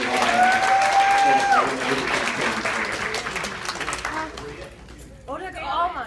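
An audience claps loudly for Kelvin Anderson, who prepared all the meat for the gathering. Dense, steady applause runs throughout and tapers near the end, with voices and a whistle-like tone mixed in.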